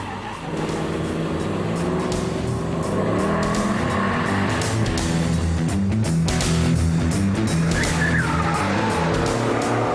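A Mercedes SLK 55 AMG races on a track, its engine roaring steadily and loud at high speed with shifting tone and faint tire noise, no voices over it.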